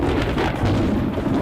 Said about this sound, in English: No, not rain, but... Thunder!